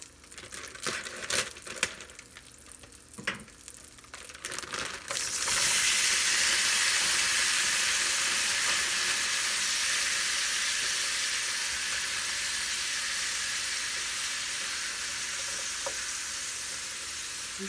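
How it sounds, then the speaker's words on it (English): A stir fry mixture hits a hot pan after a few clatters and scrapes, breaking into a loud, steady, close sizzling hiss that carries on unbroken and slowly eases. "And then on the other side of the pan, I'm going to put this stir fry mixture."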